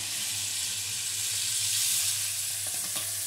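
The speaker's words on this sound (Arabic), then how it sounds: "وكنجيب هذيك الكبده وكنشويها قبل ما الكبده تذوب" Chicken livers sear in butter in a hot pan, giving off a steady, bright sizzle with a faint stirring scrape near the end and no voices.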